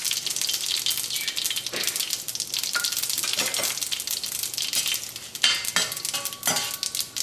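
Dried red chillies frying in oil with mustard seeds for a Kerala ginger curry: a close, continuous sizzle and crackle with occasional scrapes and clinks of a utensil against the pan, no talking.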